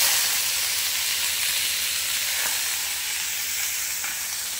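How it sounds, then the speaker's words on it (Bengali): Small chicken pieces fry in hot oil with a loud, dense, continuous sizzle that stays steady throughout. The sound is close, and no one speaks. "তেল আমার গরম হয়ে গিয়েছে। এবার দিয়ে দিলাম ছোট ছোট চিকেনের টুকরোগুলো।"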